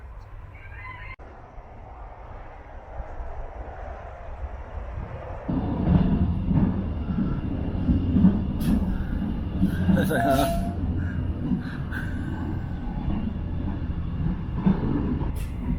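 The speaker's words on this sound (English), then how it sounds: "so I'm taking the train today" A train rumbles steadily from close by, with rolling low noise and occasional squeaks and clanks, while a person speaks briefly.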